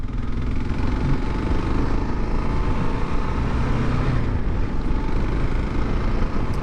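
Steady, continuous drone of a Kawasaki KLR single-cylinder motorcycle engine running at an even pace, heard close and alone with no talk over it.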